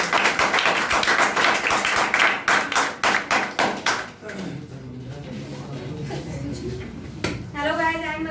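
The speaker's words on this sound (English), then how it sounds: "So Madam clap for Madhu" Audience applause at a public speaking session, a dense burst of clapping over the first few seconds that thins out, followed by a person beginning to talk.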